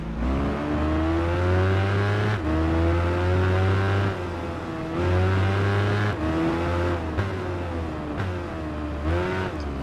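Ducati race bike engine in the Tourist Trophy racing game, a steady aggressive high-revving tone with several quick dips at gear changes, loud and continuous.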